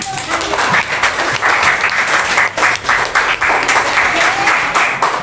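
Classroom applause in a junior high school lesson: a group of students clapping together, fairly loud and continuous, with some voices mixed in.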